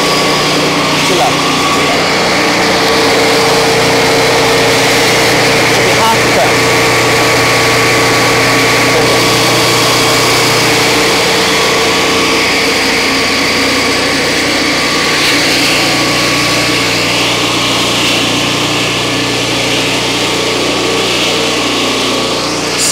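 A Turbosawmill runs steadily while skimming a cut an eighth of an inch lower, its loud continuous engine whine and buzz holding even throughout with a slight shift in tone partway through.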